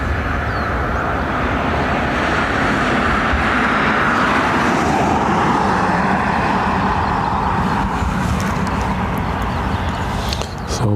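An Airbus A320neo at Dublin Airport roars steadily for the whole stretch, a loud broadband jet engine rush that stays near and constant before easing slightly at the end.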